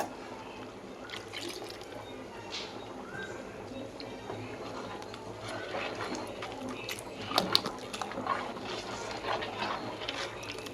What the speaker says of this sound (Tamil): உங்களுக்கு எவ்வளோ திக்காக வேணுமோ அவ்வளோ தண்ணி ஊற்றிக்கோங்க